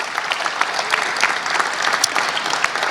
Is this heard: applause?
yes